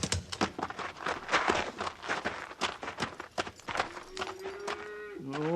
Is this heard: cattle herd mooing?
yes